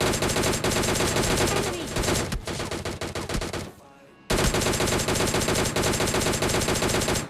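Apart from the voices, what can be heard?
S12K gunfire in PUBG Mobile Lite video game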